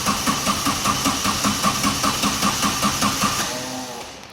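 A Vauxhall Vectra engine fitted to a rewired rescue hovercraft cranks over repeatedly with a steady rapid pulsing rhythm, never catching, then the cranking slows and dies away; no one speaks over it.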